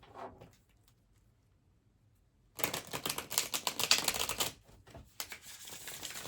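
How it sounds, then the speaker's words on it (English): Tarot cards are shuffled in a rapid riffling burst after a quiet pause, followed by a few softer taps and rustles. "So I'll just give the cards one more shuffle."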